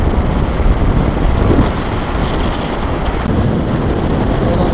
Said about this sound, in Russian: Вот он, вертолет.